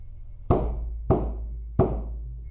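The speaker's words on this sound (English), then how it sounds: "There were 3 knocks at the door." Three sharp, loud knocks on a front door, evenly spaced about half a second apart, each fading quickly into a quiet background with no voices.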